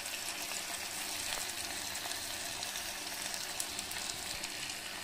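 Chopped onions, tomatoes, chilli powder and turmeric sautéing in a pan for an idli-dosa side dish, giving a steady, even sizzle that holds at one level throughout with no voices.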